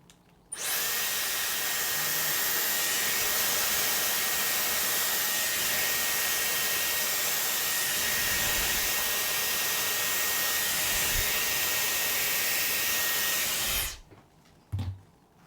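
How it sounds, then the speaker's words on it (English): A Dyson Airwrap hair styler blows a loud, steady, whirring stream of air for about thirteen seconds before cutting off abruptly, with nobody speaking. "kind of bring the Dyson Airwrap backwards"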